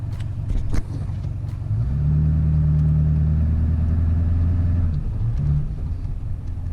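A GMC Duramax diesel truck rumbles in a steady, close idle as it is put into drive and creeps forward in four-wheel high, with the engine note holding at a low drone before easing off.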